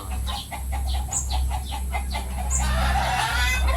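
A chicken clucks in a series of short, repeated clucks close by, with a few sharper squawks mixed in. A steady low hum and rustling farmyard background run underneath.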